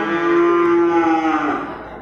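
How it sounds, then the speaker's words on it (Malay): A water buffalo at a livestock market in Bireuen lows once, loud and close: a long, drawn-out moo that holds steady and then fades at the end. "kerbau-kerbau kecil."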